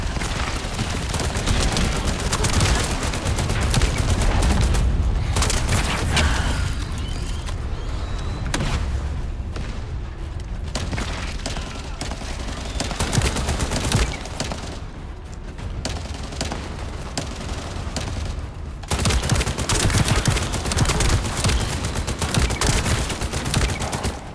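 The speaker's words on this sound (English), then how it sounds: "it's basically like playing an M16 and a lot of other things with that burst fire" Burst-fire rifle gunfire in the video game The First Descendant, dense rapid volleys of loud shots repeating almost continuously with brief lulls, mixed with booms from other weapons.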